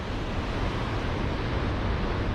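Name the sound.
large ocean waves on Morocco's wild coast in winter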